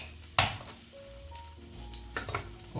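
Asparagus frying in a hot pan with lemon pieces and chilies, a steady sizzle with louder bursts of crackle and stirring near the start and end, close and alone.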